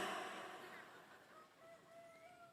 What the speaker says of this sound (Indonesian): Itu suara ayam beneran atau handphone?